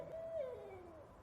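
A single owl hoot, a clear descending tonal call lasting about a second, close and fairly quiet against a soft background.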